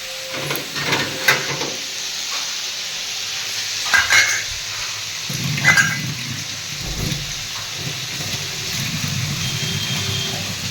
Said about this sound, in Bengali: দেখো উচ্ছে ভাজা হয়ে যাচ্ছে